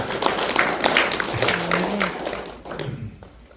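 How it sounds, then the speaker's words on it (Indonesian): A church congregation applauds with a busy spread of many claps that trails off toward the end, while voices call out and murmur through it. "tepuk tangan buat Tuhan Yesus."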